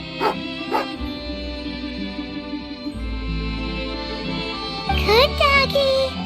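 A dog barks and yips a few times in Genshin Impact, its short sharp calls set against steady game music, with a brief burst of higher chirping cries near the end.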